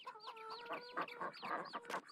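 Several chickens in the video game Farming Simulator 22 cluck and chirp in quick overlapping calls, soft and busy, with no talking.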